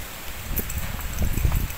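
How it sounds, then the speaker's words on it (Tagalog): Steady rain hissing outdoors, dense and continuous, with low rumbling gusts underneath. "Ulan na, sisilong muna tayo dito."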